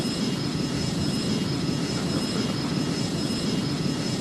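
An Embraer 240 jet takes off at full engine power, its loud, steady roar filling the air with a constant broadband rush and a faint high whine over it, unbroken for the whole stretch and with no talking.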